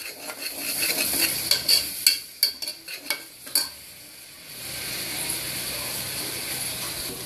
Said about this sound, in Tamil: அந்த ஃப்ளேவர் வர வரைக்கும் நல்லா கிண்டி விட்டுக்கணும்.